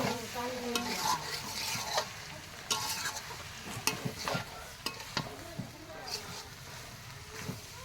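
Beef tripe being stirred and fried in a pan, a soft continuous sizzle broken by irregular scraping strokes of a spatula, fairly quiet, with a voice talking over it at times.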